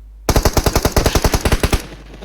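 A loud, close burst of rapid automatic gunfire in PUBG Mobile, about fifteen evenly spaced shots in quick rhythm lasting roughly a second and a half, with no talk.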